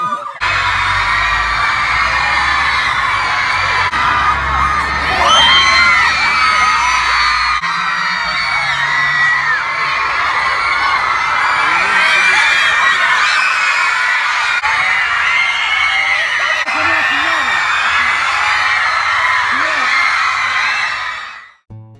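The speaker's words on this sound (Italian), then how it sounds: "E voi già state urlando, vi sento da qui." A large crowd of fans shouts, screams and cheers without a break, a loud, dense wall of overlapping voices that holds steady throughout.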